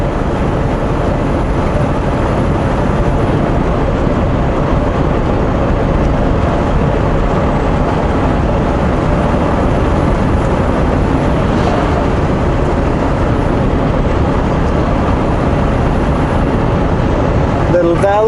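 Steady, loud drone of a truck engine and road rumble while driving behind a bus, continuous and unbroken from start to finish.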